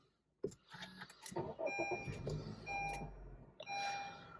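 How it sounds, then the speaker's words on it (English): A Honda City facelift, fourth generation, started with a push button: a sharp click, then the engine catching and settling into a low, steady idle close by, with a few chimes and beeps over it. "So the startup sound is really good."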